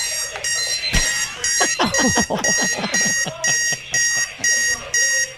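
Many alarm clocks ringing together at 4 in the morning, a loud close repeating electronic beeping in regular bursts, with a shout and quick vocal sounds over the start.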